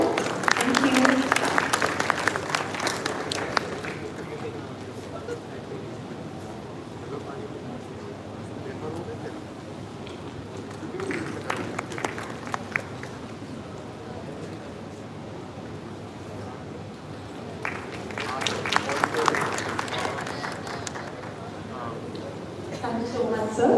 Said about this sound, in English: I request the audience and the spectators to please give a huge round of applause here